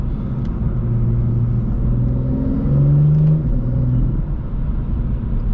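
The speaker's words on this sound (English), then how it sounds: "damn, you can really hear the turbo." Turbocharged engine of a BMW M2 F87 accelerating on the road, a steady loud rumbling drone with rising whirring tones swelling in the middle, heard from inside the car without talk.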